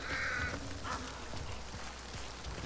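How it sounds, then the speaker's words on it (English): Harsh crow caws in Hunt: Showdown, a couple of calls near the start over a steady wash of rain and ambient noise. "Yeah, I hear you, crows."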